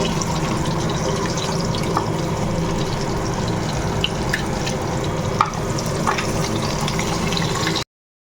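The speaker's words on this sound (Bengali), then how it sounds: "দেখো মাছগুলো সুন্দর করে লাল করে ভেজে নিয়েছি কিছুটা ভেজেছি আর এই কিছুটা ভাজা হচ্ছে" Pieces of fish, fried red, crackle and sizzle steadily in a pan, a dense close hiss with small pops throughout, ending abruptly in silence.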